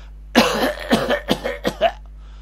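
Several loud, close coughs in a rapid burst, one after another, over a low steady hum, with no speech.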